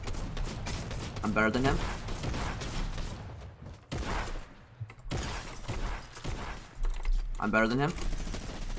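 Fortnite gunfire: rapid bursts of shots with clicking keyboard and mouse, played loud and close while someone talks excitedly over the action.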